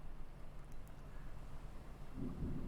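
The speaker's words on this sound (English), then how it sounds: "So we had rain on a window, which is this one." Steady soft rain patters on a window with a low rumble of distant thunder underneath, swelling slightly toward the end.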